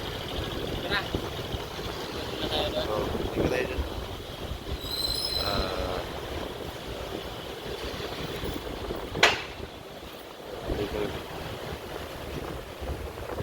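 Steady, blustery wind roars across the microphone at an elevated spot in Eastwood City, Quezon City, a low rumbling rush with a brief sharp gust partway through.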